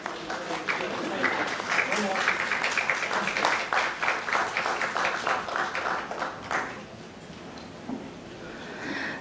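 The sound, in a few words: audience applause at a forum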